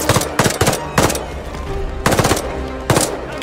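Bursts of MP40 submachine gun fire with a drum magazine in the video game Call of Duty Vanguard, several short rapid automatic volleys, loud and close with brief pauses between them.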